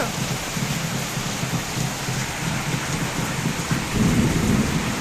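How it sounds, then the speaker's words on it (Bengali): Steady rain hisses throughout while low thunder rumbles continuously underneath, swelling louder near the end; no one speaks. "খুব মেঘ ডাকছে"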